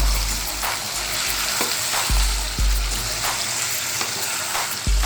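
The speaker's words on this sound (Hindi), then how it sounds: "पूरी तेज़ आंच पे हम इसको फ्राई करेंगे। इस तरह से इसको हिला देना है।" Chicken pieces fry hard in a karahi over high heat, a dense, loud, continuous sizzle broken by several sharp scrapes and knocks as the meat is stirred, with no talking.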